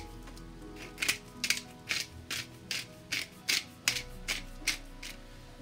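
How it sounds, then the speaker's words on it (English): A pepper mill grinds black pepper in a home kitchen, about a dozen close, regular ratcheting crunches in a steady rhythm, with no other sound over them. "Little crack black pepper just to taste."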